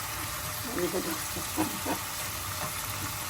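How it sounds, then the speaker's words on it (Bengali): Chapila fish is dropped into hot masala in a frying pan, producing a soft, continuous sizzle and hiss with occasional stirring scrapes while a person talks over it. "মাছটা ছেড়ে দিচ্ছি মশলাটার মধ্যে"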